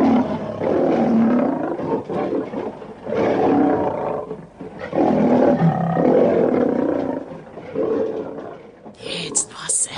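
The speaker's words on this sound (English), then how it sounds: "So give us a lion roaring." A lion roars in three long, deep, rasping bursts separated by brief pauses, loud and close, with a short clatter at the very end.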